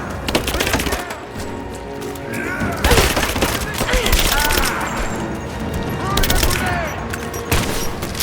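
Rapid bursts of automatic gunfire and scattered shots in a Rise of the Tomb Raider firefight, loud and continuous over several seconds, with shouted combat voices mixed in.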